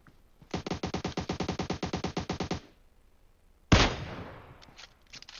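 Rapid automatic gunfire in the PUBG Mobile battle royale game, a steady burst of about twenty close, loud shots over two seconds, then a pause and a single sharp blast with a ringing tail and a few faint clicks.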